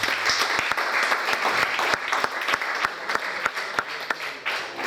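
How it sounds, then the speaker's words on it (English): A church congregation bursts into sustained applause during a sermon, many hands clapping densely and steadily for about five seconds, filling the room at a lively, even level. "Shall we clap for mothers?"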